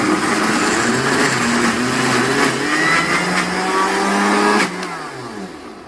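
Kitchen blender grinding peeled shrimp, a steady loud motor whir running for about four and a half seconds before it winds down and stops near the end.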